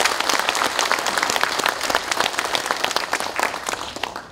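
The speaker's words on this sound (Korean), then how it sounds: "여러분 큰 박수 부탁드립니다." A crowd applauding steadily at a national general meeting of the Korean police veterans association, dense clapping that stays loud throughout and tapers slightly near the end.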